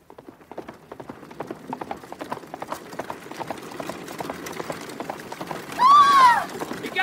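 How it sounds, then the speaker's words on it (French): Runaway horses pull a carriage in an audiobook scene, rapid clip-clop hoofbeats pounding steadily closer with rattling wheels, ending in a loud neigh. "Des chevaux emballés!"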